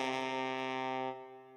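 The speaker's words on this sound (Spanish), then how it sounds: "Ese instrumento es el trombón." A single sustained trombone note, steady and full for over a second before it drops off and fades, heard alone with no voices, as an example instrument in a children's music-matching game.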